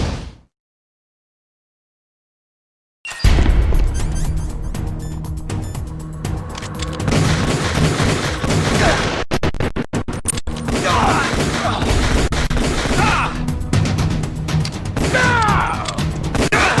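Gunfire in Metal Gear Solid: The Twin Snakes, opening with silence before sustained rapid bursts of shots mixed with crashes, impacts and clatter, loud and dense throughout.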